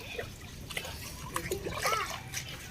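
Water runs and trickles with light splashes in a steady flow, fairly close, while voices murmur faintly in the background.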